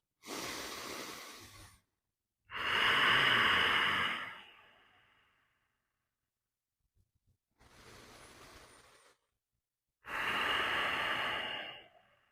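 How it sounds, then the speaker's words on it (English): Deep, slow breaths taken during a squat-depth mobility stretch, four long airy inhales and exhales separated by silent pauses, close and fairly loud with no talking. "Take about 3 deep breaths"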